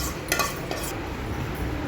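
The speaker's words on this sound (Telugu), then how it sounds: "ఈ తాలింపు మొత్తం రైస్లో వేసేసుకున్నా. కలిపేసుకోవాలి స్లోగా." A spoon stirs tempering into tamarind rice in a pan: soft scraping and mixing strokes with a couple of brief metallic clinks near the start, close and fairly quiet.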